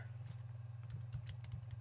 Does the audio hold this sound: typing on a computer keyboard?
yes